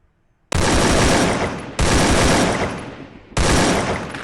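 Gunfire in the video game Garena Free Fire: three loud, close bursts of rapid automatic fire, each about a second and a half long, separated by brief pauses.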